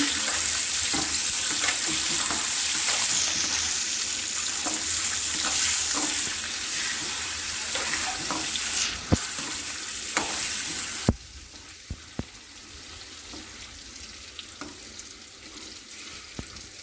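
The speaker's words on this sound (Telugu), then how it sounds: "కోడిగుడ్లు అండి వేసుకొని వీటిని కొంచెం లైట్గా ఫ్రై చేసుకోవాలి" Eggs frying lightly in a pan for egg biryani, a steady close sizzle and hiss with occasional stirring scrapes and clinks, fading to a quieter crackle partway through.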